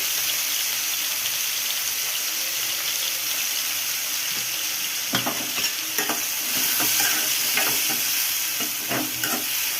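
Chopped tomatoes sizzle in a pan for jonna sangati with a constant hiss, while a spoon stirs them in short scraping bursts partway through, close and clear, with no talk.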